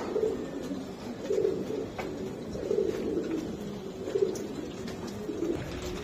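A racer pigeon coos in soft, low repeated phrases, about one every second and a half, close by over a faint steady background.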